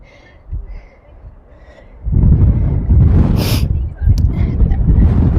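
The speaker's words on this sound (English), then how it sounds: "It's very windy." Strong coastal gusts at Ingoldmells, Lincolnshire buffet the microphone in heavy, low roaring bursts, starting faintly and then blasting loudly outdoors, briefly easing before surging again.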